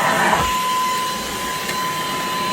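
An Ultenic U10 cordless stick vacuum cleaner runs indoors with a steady, loud whirring drone and a constant high whine, uninterrupted and with no voices.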